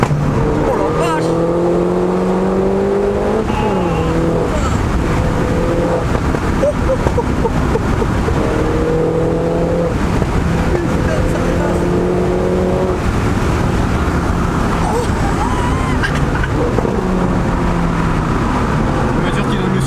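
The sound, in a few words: modified Renault Mini GP2 car engine driving fast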